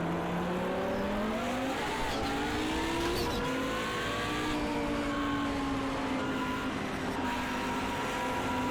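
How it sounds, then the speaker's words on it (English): Race car in Project CARS 2 held in a four-wheel drift, its engine droning steadily with rising and falling pitch as revs shift through the corner, alongside faint tyre scrub, with no talk. "Nice little four-wheel drift there."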